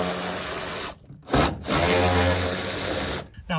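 A power tool backs screws out of a RokBlokz mudflap on a 2020+ Chevrolet Silverado 2500/3500 SRW, in three loud, sustained bursts of motor whine separated by short pauses.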